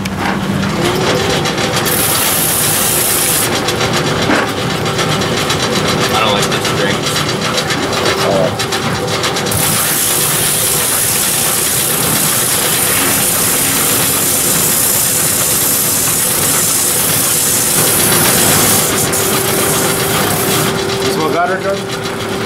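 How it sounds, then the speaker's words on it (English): A grinder in a shoe repair shop grinds the sole off a Red Wing Irish Setter boot, a loud continuous mechanical whir that runs throughout while people talk nearby. "So he's gonna grind it off for you."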